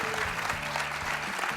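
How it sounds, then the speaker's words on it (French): Conference audience at a Data on Board 2021 opening plenary claps in a brief steady burst, with music playing underneath. "on peut applaudir les 10 ans de Data Soft et le panéliste"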